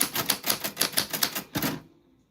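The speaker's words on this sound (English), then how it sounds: "I'm gonna do some typewriter ASMR as promised." Typewriter keys struck in a quick, uneven run of about eight close, crisp clacks, followed by a brief pause and a final heavier strike before falling quiet, played as ASMR.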